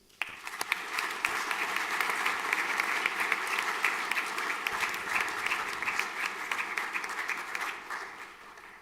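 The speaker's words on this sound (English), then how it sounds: "Applause, please." Steady applause from a crowd, a dense patter of many hands clapping that holds for several seconds before trailing off.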